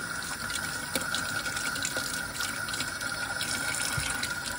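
Tap water runs steadily into a plugged kitchen sink, a continuous even gush heard close up, with no talking.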